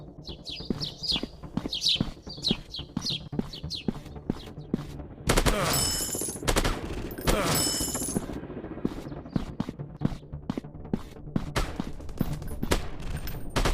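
Rapid gunfire from a first-person shooter game crackles in bursts, with dense automatic volleys in the middle and scattered single shots around them, loud and close, while a player's voice calls out over the action.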